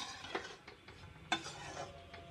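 A spoon stirring a besan (gram flour) mixture in a pan for laddu, giving soft scraping strokes and a few light clinks against the metal, quiet and close, with no voices.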